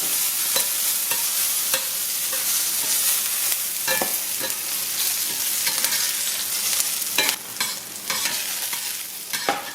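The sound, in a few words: shishito peppers frying and being stirred in a pan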